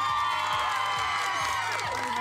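A studio audience on a morning television show cheers and applauds as a guest arrives, a dense, steady roar of clapping and whoops filling the whole stretch.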